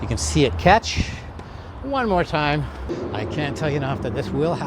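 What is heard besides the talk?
No distinct noise like a dog, phone or traffic.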